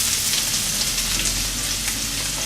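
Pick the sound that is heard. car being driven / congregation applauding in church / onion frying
onion frying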